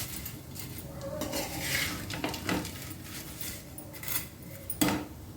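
Semiya (vermicelli) fries lightly in a pan while a utensil stirs it. Soft scraping and clinking of metal on the pan repeat irregularly over a faint sizzle, close and fairly quiet.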